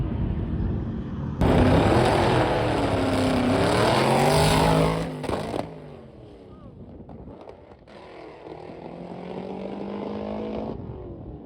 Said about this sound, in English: Missed a gear in the old hot rod.